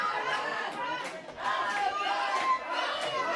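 A wrestling crowd chants and cheers for a downed wrestler, Leon Cage, a steady rhythmic roar of many voices with periodic swells, heard at a distance.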